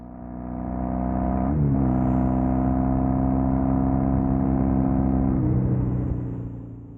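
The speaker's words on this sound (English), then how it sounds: "I'm just turning down a road now where I can really open up the throttle, so I'm doing that" A motorcycle with a custom exhaust on an open road, throttle wide open, holds a loud, sustained engine drone that dips briefly as the pitch shifts, then carries on steadily before fading out.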